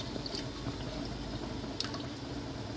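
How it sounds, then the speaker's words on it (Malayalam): Rice flour mixture poured into milk for pesaha appam and paal gives a faint, steady liquid trickle and splash with a few small drips, quiet and close. "ഇനി നമുക്ക് പാലിലേക്ക് ഒഴിച്ചു കൊടുക്കാം."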